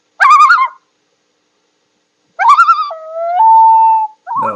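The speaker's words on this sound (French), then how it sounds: "le son mélodieux d'un huard sur le bord des lacs" Common loon calling beside a lake: a short wavering tremolo burst, a pause, then another quavering call that settles into long, pure mournful wails, clear and close with nothing else audible.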